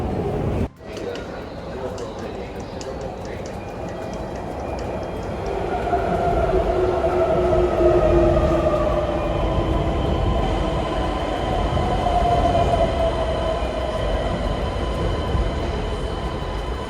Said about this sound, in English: we are now riding the Skyliner going to Narita International Airport Terminal 2